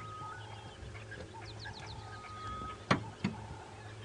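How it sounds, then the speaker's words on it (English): Egyptian geese squabbling during an early morning safari drive at a game reserve in breeding season: faint honking and calling in the distance, then two sharp louder squawks near the end over a low steady hum. "A little bit of conflict there between the Egyptian geese."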